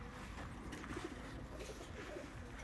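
Soft pigeon coos repeat a few times against a steady outdoor background hum, with no one talking.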